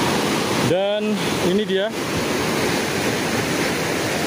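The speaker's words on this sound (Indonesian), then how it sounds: "Ini aliran sungai Kalituntang, deras sekali sobat sejarah." Fast-flowing water of the Kalituntang river rushes in a steady, loud, close roar throughout, while someone speaks briefly over it.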